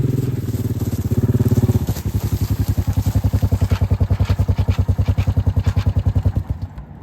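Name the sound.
four-wheeler ATV engine approaching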